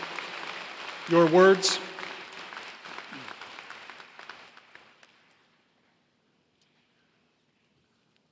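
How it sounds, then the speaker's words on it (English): A crowd claps at the 2022 Warren Township High School commencement ceremony. The dense applause fills the hall, a voice speaks briefly over it early on, and the clapping thins out and stops after about five seconds, leaving silence. "How about one more round of applause for Mandy and Menahil this morning?"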